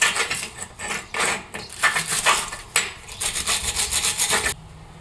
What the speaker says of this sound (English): I'm just gonna give this a real quick wire brush too.